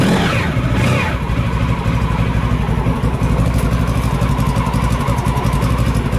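A Honda Pan European motorcycle engine, fitted with replacement exhausts, starts and settles into a loud, close, steady running rhythm with no one talking.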